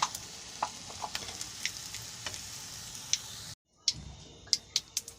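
Oil sizzles steadily in a pan as egg koftas fry, with scattered small pops and crackles, close by; a brief dropout, then more sharp pops.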